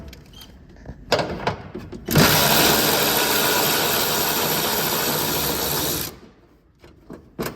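A power tool runs on a bolt in the bracket of a 2022+ third-generation Toyota Tundra, buzzing loud and steady for about four seconds, with a few clicks and clunks before and after.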